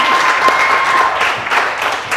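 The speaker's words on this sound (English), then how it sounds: "Give a round of applause" A live audience at a singing show claps steadily in a dense, continuous round of applause that fills the whole short stretch.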